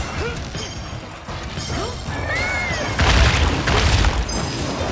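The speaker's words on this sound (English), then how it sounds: "We need to repel using the cannon." Heavy booms and crashes from cannon fire in the monster-hunting game Monster Hunter Rise, loud blasts swelling over a dense battle soundscape with creature cries and effects.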